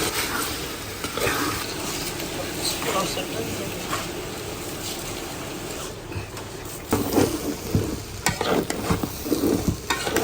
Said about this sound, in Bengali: এই পোলাওটা বেশি ভাজা ভাজা হলে ভালো হয়